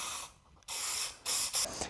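Spray paint can hissing into the inset of its cap in short bursts, three to four close, loud sprays separated by brief pauses.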